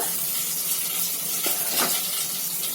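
Bay leaf and green chilli tempering in hot oil, a dense close sizzle running through the short stretch with a couple of soft stirring knocks partway in and no voices.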